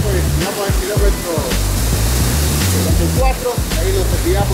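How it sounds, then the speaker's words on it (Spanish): La Esperanza waterfall, a constant loud rushing roar of falling water, with someone speaking Spanish over it. "Estamos acá en la cascada La Esperanza."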